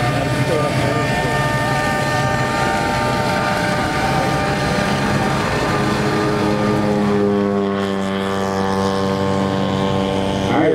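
A Top Flite P-47 radio-controlled model airplane flies past at a competition flying field, its loud engine drone holding steady and then falling in pitch as it passes. Voices can be heard beneath the engine.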